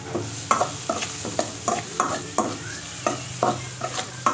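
Chopped onion sizzles steadily in a hot pan while a utensil stirs and scrapes at a regular rhythm, close and moderately loud.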